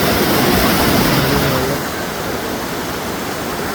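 The Moozhiyar hidden waterfall at Gavi roars as water falls from above, a loud, steady, unbroken wash of noise that eases slightly partway through.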